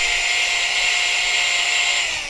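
A power drill reams out the inner bore of a fishing rod grip, giving a steady, loud, high-pitched whine that holds constant for a couple of seconds before easing slightly, with no talking.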